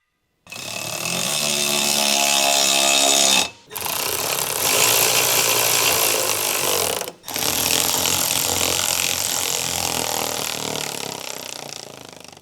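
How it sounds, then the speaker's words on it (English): A medium electric impact wrench with a 14 mm deep socket tightens side step bracket nuts on a 2011-era Ford Explorer 3.5L. It runs in three long, loud, continuous hammering bursts with brief pauses between them, and no talk. "Use the medium 14 mm deep socket with the medium electric impact wrench to tighten them down."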